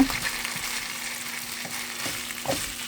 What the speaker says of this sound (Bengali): হালকা একটু ভাজা দিয়ে নেই, যেটুকু যায় ভাজা।